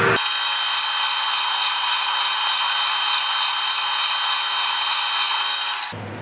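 A metal lathe takes a final turning cut, a steady bright hissing whir that runs at even loudness for several seconds, then cuts off abruptly.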